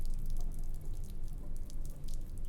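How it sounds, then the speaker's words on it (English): Water drips in a cold, dark place in the video game The Silent Age, near a power generator: sharp, scattered taps over a steady broadband hiss, with no one speaking. "And some dripping water."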